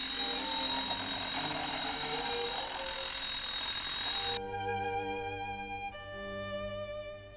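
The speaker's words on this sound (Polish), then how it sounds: "Budzik dzwoni wyjątkowo natarczywie." A mechanical alarm clock rings insistently for about four seconds, a loud steady bell that cuts off abruptly, followed by a sustained electronic beeping tone that continues to the end.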